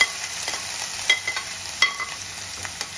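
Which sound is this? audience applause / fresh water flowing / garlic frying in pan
garlic frying in pan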